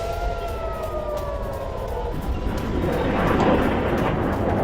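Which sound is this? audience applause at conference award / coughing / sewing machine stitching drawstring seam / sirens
sirens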